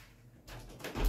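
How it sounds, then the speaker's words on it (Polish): A window is pulled shut close by, a short rising scrape and rustle ending in one firm, loud low thump, with outside noise faintly audible beforehand. "muszę zamknąć okno, bo hałas z zewnątrz będzie zagłuszał wszystko"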